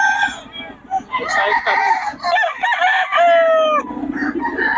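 A young rooster, an 11-month-old stag, crows in a series of harmonic calls while people talk nearby, with other fowl clucking in the background on a farm early in the morning.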